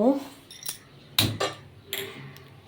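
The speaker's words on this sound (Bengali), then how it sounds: "আমি এখানে পেনটা এবার বসিয়ে দিব" An egg frying pan is set down on a home kitchen stove, giving a few sharp metallic clanks and knocks spaced over a couple of seconds, close and moderately loud.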